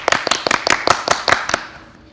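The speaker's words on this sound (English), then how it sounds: "Please give a warm round of applause for book critics Tyler Potter and Emma Wallace." Several distinct hand claps from a small audience welcoming two book critics as podcast guests, about eight sharp, evenly spaced claps that fade out after a second and a half, with no talking.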